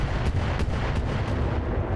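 Mortar barrages in the modded mech game BattleTech (RogueTech), a continuous heavy rumble of booming artillery with several sharper blasts rising above the roar.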